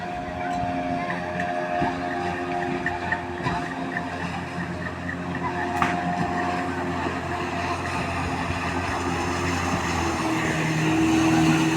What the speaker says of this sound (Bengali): এখন আমরা উঠব স্বপ্নপুরীর কৃত্রিম লেকের স্পিড বোটে